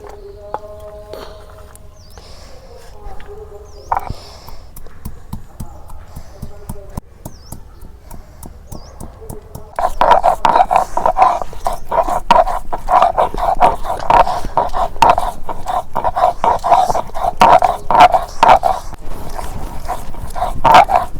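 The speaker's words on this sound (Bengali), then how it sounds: "এখন শিল্পাটার মধ্যে বাইডা নেই।" Ginger is ground on a shil pata stone, with a quiet start followed by continuous, rapid rhythmic scraping strokes that grow louder and fill the second half.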